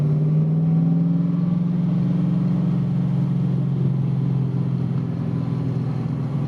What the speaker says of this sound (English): very tight sounding engine, isn't it?